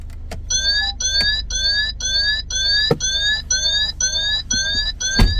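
A repeating electronic open-door warning chime from a 2018 Peugeot 3008 with a 1.5 diesel engine, a steady train of short two-tone beeps pulsing evenly and clearly, with a low engine hum underneath.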